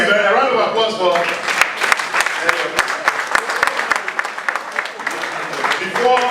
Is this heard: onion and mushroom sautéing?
no